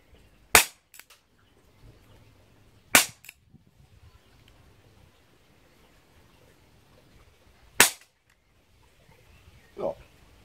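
A Walther PPS M2 CO2 air pistol firing 4.5 mm BBs, giving three sharp, isolated snapping shots spaced a few seconds apart with quiet handling noise between them, followed by a softer, duller click.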